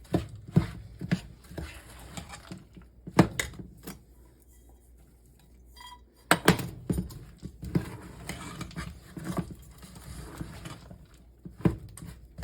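A spoon stirs nuts into African peanut chicken stew in a pot, giving irregular close knocks and scrapes with quiet gaps between clusters.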